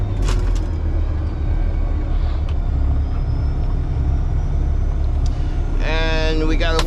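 Concrete mixer truck engine held at raised RPM during washout at the washout pit, a loud continuous diesel rumble throughout, with brief clanks early on and a short high whine near the end.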